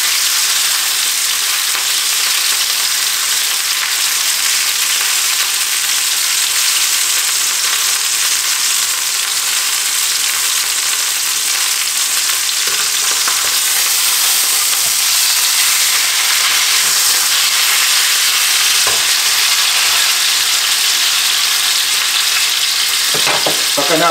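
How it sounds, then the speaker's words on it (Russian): Roe deer meat fries in a very hot pan, giving a steady, loud, dense sizzle and crackle throughout, with a few sharper spits near the end and no talking. "Пока мясо обжаривается,"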